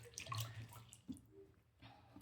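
A skincare device is rinsed under running tap water, giving faint, brief splashing and gurgling close by.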